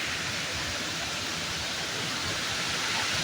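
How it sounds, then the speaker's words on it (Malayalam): The Kakkayam waterfall roars in a steady, broadband rush of falling water, loud and continuous with no voices. "വെള്ളച്ചാട്ടത്തിൻ്റെ ഇരമ്പിൽ കേട്ടുകൊണ്ട് കുറേ സമയം അവിടെ ചെലവിട്ടു"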